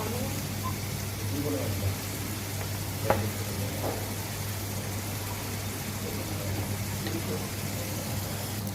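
Basic spices of salt, turmeric powder and chili powder fry in a pan for a fish curry, giving a steady, even sizzling hiss over a low hum, with one faint knock partway through.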